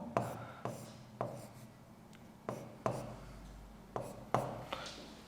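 Pen writing by hand on paper during a maths lesson, heard as a run of short scratchy strokes with sharp onsets about every half second, close and fairly quiet.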